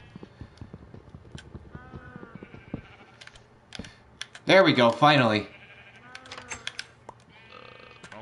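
A Minecraft sheep lets out one loud, wavering bleat of about a second, rising sharply above quiet game sounds and scattered footsteps, while a player talks before and after it.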